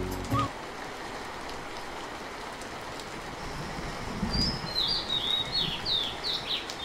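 Cartoon bird chirps in a rapid run of high, bright tweets, rising over a soft, rain-like background wash in the second half.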